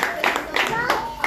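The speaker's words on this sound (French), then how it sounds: "Voilà, applaudissez." A few people clap at a gathering in an orphanage, a handful of sharp claps spaced unevenly through a short burst, mixed with voices and children talking close by.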